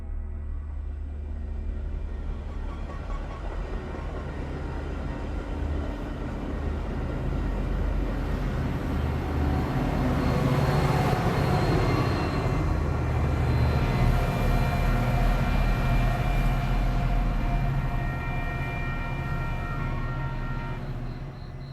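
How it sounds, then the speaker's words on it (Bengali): Steady low rumble of a train travelling through the night, a continuous rolling drone that swells slightly in the middle and stays loud throughout, with no voices. "ট্রেন যখন তারাপীঠে পৌঁছল তখন ভোর হয়।"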